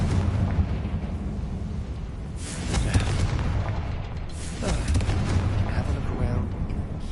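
A Confringo fire spell cast in Hogwarts Legacy goes off as loud, booming blasts, with dense crackling rumble throughout and two stronger bursts landing a couple of seconds apart.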